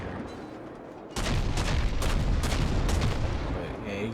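Destroyer guns fire in a World of Warships naval battle in a strait, a rapid series of booming shots over a low rumbling game background.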